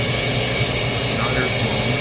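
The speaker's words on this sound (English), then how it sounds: "My inducer is running." The inducer motor of a Ducane gas furnace runs with a constant close whirring hum and no breaks.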